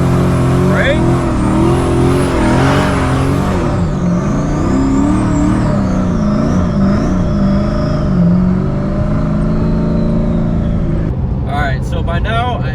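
A manual car does a standstill burnout: the engine is held high at about four to five thousand rpm, then the clutch drops, and it roars loudly and continuously with a shifting, wavering revving tone near the listener.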